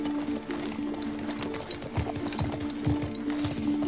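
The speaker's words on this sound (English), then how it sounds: "They got so many. They got some horses." Hoofbeats of horses in The Last of Us Part II, heard as uneven clip-clop thuds at moderate distance over a steady low ambient hum in a small game town.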